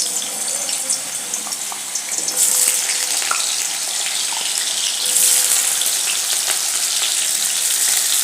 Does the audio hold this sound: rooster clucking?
no